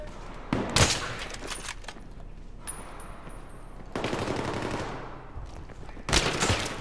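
Rapid automatic gunfire in the video game Battlefield 3, fired from the hip in loud, dense bursts with short quieter gaps between them, close and punchy.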